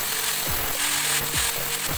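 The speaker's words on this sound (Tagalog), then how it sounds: "gagrinderin natin mga parts kasi matalim yung" A small grinder smooths the sharp edges of drilled plastic Bluetooth speaker parts, giving a steady close whine cut by short rhythmic scraping passes roughly every half second.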